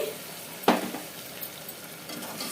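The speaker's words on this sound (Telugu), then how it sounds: "మంచిగా మిక్స్ చేసేసుకొని ఒక్క నిమిషం పాటు మనం వేసిన మసాలాలన్నీ ఆయిల్లో ఉడికిచ్చేసుకోవాలి" Curd and masala spices frying in hot oil in a pan, one sharp scrape of a stirring spoon early on, then a steady low sizzle with faint clinks and no talking.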